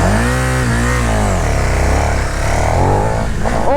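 KTM motorcycle engine revving hard on launch control, held near the limiter with wavering pitch, very loud and close throughout and no talk.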